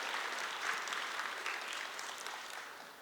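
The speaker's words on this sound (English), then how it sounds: "Give a round of applause for the Tai Chi performers, ladies and gentlemen" Audience applause for Tai Chi performers at a Chinese New Year concert in Ballarat, a dense, steady wash of clapping heard from a distance and fading slightly at the end.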